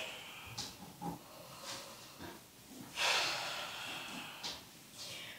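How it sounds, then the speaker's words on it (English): Slow, deep relaxation breaths taken close to the mic, soft airy hissing inhales and exhales at a steady unhurried pace, one fuller exhale standing out midway, with no talking. "A few more breaths here."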